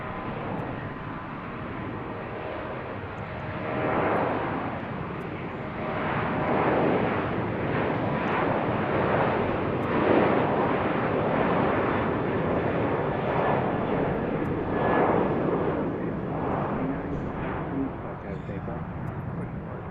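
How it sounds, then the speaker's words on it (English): An airliner departing BWI airport sends out a rolling, rising engine roar with pulsing surges that builds to a loud peak midway and slowly eases, steady and continuous, with a voice speaking over the roar. "Next departure."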